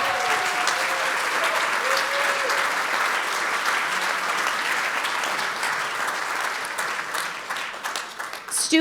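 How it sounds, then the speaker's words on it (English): Loud, sustained applause from the audience at an arts benefit evening for FTD, dense and even for about nine seconds, with a few scattered voices and cheers mixed in. "Stu, you need a round of applause for that."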